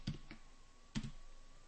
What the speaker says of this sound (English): watching my typing